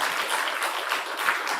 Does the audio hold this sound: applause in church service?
yes